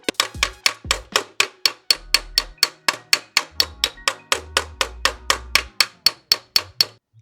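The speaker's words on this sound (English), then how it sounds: "I'm on dolly. I've got the dolly underneath, material on top, and I'm actually hitting onto the dolly to stretch the material" A hammer strikes a sheet metal panel held on a dolly for a Jaguar Lindner Nöcker, about two dozen fast, evenly spaced blows with a bright ringing ping, close and loud with no talk.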